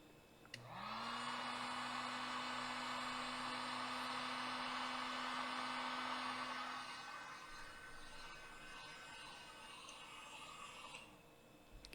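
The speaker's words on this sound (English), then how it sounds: "And then I'm going to fire up my Harbor Freight heat gun, something like that." A Harbor Freight heat gun runs with a steady, close blowing roar and a motor hum, holding constant for about ten seconds before switching off.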